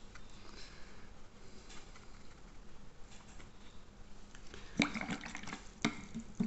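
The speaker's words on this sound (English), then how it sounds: "Just give my brush a little bit of a rinse." A watercolour paintbrush being rinsed in a water pot, faint, soft liquid swishing and dripping at first, then a few louder clinks and sloshes of the brush against the container near the end.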